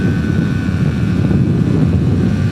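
A Vespa GS150 scooter fitted with a SIP performance tuning kit and a smaller main jet climbs a steep hill in fourth gear, its engine a loud, steady droning roar with no gaps and no talk.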